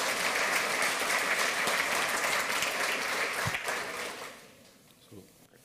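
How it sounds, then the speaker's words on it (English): Warm applause from a conference audience at the 28C3 hacker congress welcoming speakers on stage, a dense steady clapping crowd that fades out over the last second or two. "give them a warm round of applause"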